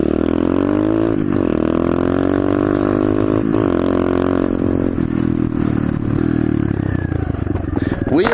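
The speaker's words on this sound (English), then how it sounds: "Wheelies, wheelies, wheelies, wheelies for days." Small pit bike engine revving hard during wheelies, loud and close, with rattling clatter and surging throttle swells throughout.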